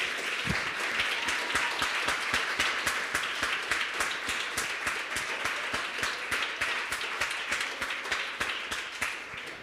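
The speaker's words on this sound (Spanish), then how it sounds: "Si le vas a aplaudir al Señor, apláudele con ganas" A church congregation claps hard during a sermon, a dense, continuous roar of hand claps with rhythmic pulses running throughout, loud and close.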